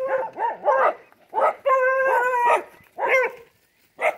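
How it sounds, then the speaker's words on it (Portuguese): A pack of neighbouring farm dogs barks, yips and howls in loud repeated bursts with short pauses between them, close by and with no voices over them. "e a cachorrada do vizinho"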